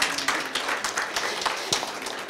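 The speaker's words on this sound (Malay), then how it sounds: "Kita bagi tepukan untuk SME Corp." People in the audience at a Malaysian business talk session clap for SME Corp. The clapping is irregular and fairly close, with distinct individual claps over the room's noise, and voices are heard among them.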